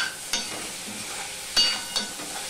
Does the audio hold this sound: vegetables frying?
yes